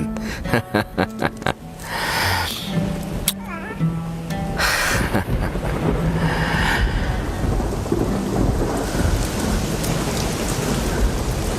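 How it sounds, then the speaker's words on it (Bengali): Steady heavy rain pours throughout, with thunder rumbling low beneath it and a few sharp knocks near the start; some voices come through briefly. "দেখো বৃষ্টি এসেছে"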